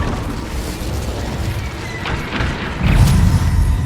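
A fire spell blasts in Hogwarts Legacy, a dense rumbling whoosh of flame that swells into a louder, heavier burst near the end, set against continuous game ambience.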